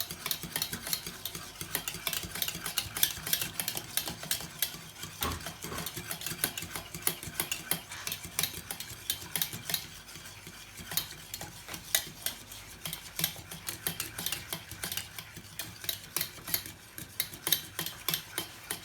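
A thickening milk mixture being stirred in a pot on the stove, heard as continuous rapid scraping and clinking of a utensil against the pot, close and quiet with no talk.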